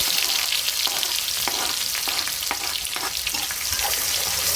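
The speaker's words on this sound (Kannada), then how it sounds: "ಉಳ್ಳಾಗಡ್ಡಿ ಹಾಕ್ತೀನಿ. ಉಳ್ಳಾಗಡ್ಡಿ ಕೆಂಪಾಗಬೇಕು." Onions sizzling and frying in oil with chana dal and urad dal for a North Karnataka red chutney, a steady loud broadband crackle with occasional stirring clicks, no voices.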